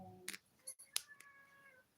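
A hungry house cat meows several times in short, separate calls over a quiet room, one loud close meow standing out among softer ones.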